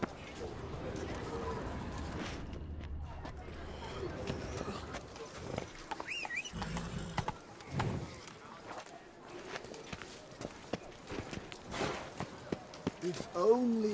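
Roach the horse from The Witcher 3 clip-clops at a gait with scattered hoof strikes, mixed with game ambience and spoken dialogue over the sounds.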